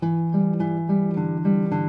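A lone guitar plays a short accompaniment figure, sustained chordal notes shifting every few beats in a smooth, even pattern, close and alone.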